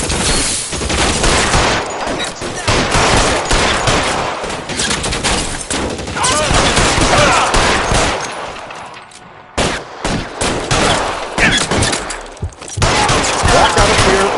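Dense, loud video-game gunfire crackles in a PS4 shooter, with sustained bursts and overlapping shots, a brief lull near the end, then more firing, and voices shouting under the barrage.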